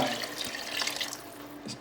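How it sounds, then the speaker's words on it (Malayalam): Water is poured into a pot of uncooked rice, two measures' worth, as a soft, continuous splashing trickle, faint and close. "ഈ പാത്രത്തിന് രണ്ട് പാത്രം വെള്ളം ഒഴിച്ചു കൊടുത്തു"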